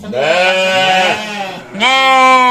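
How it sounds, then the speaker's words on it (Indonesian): Sheep bleating up close, two loud wavering calls, one long and one shorter after a brief pause. "Oh, kalau di sini namanya domba."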